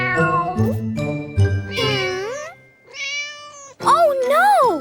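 A cartoon cat called Mama Cat gives several meows, bright and close, with pitch bending up and down, alongside a light jingle and a short pause before a final drawn-out meow.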